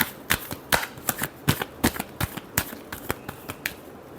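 Tarot cards being shuffled, a quick run of crisp riffling slaps and flutters in irregular bursts, close and clear, with no voice over them.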